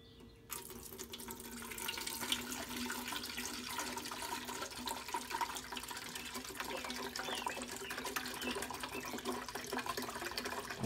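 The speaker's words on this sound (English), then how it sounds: "I pour the descaling solution in." Descaling solution pours into the reservoir of a Keurig K-Elite coffee maker, a steady close liquid stream that keeps up for about ten seconds, with faint background murmur.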